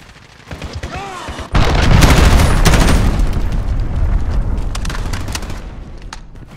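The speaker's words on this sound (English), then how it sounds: "Allied cruise missile launched." Cruise missile launch and explosions in Call of Duty Modern Warfare multiplayer, scattered gunshots and a whistling descent, then a sudden loud booming blast that rumbles on with ongoing gunfire around it.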